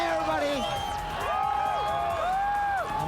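A large crowd at a video game event in front of an 80-foot screen cheers and whoops, with many voices rising and falling together in a loud, continuous roar.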